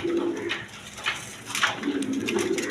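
Brief, close cooing from breeding pigeons, a crestless male and a Chuital female, with one low coo at the start and another near the end and a quiet pause between.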